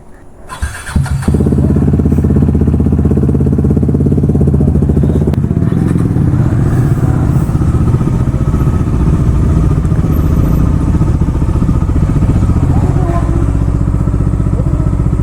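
Superbikes, including a Hayabusa, a GS and a Harley-Davidson, start up for a night ride in Chandigarh, then settle into a loud, steady close engine rumble.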